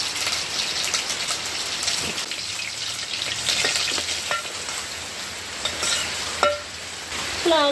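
Eggplant bhaji fries and sizzles in a pan over a village wood-fired stove, a steady loud crackling hiss broken by a few scraping stirs near the end.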